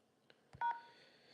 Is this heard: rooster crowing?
no